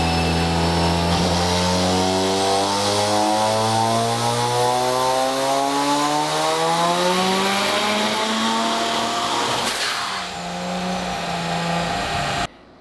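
A two-rotor 13B rotary engine screams loudly at maximum torque, its pitch climbing steadily until a sudden failure cuts the note short and it winds down, with no talking over it.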